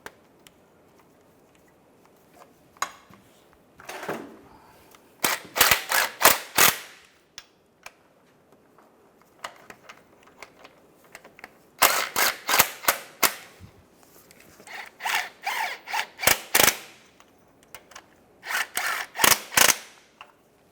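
Bolts snugged down on the clutch slave cylinder of a 2005-2010 Chevrolet Cobalt: clusters of rapid, sharp ratchet clicks in several bursts separated by quiet pauses, close and crisp, with no talking.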